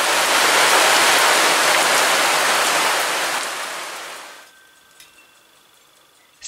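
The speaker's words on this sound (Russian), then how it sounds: "А дождь разошелся, все сильнее и сильнее идет." Heavy rain falls at a country dacha garden in a loud, dense rush that tapers and then cuts off abruptly, leaving near quiet with a faint tone and a couple of small knocks.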